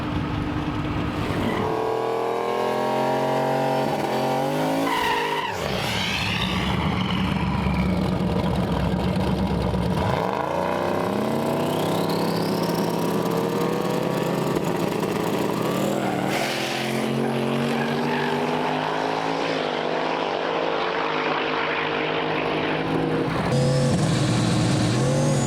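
A race truck's engine roars during a drag race at Mentone Airport, revving hard and loud through gear changes and rising pitch sweeps, with tire noise and other engines around it.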